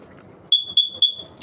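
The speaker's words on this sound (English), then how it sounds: "I'm not worried about the smoke detector." A household smoke detector gives three short, piercing high beeps in an evenly spaced row, loud and close over a faint quiet room background.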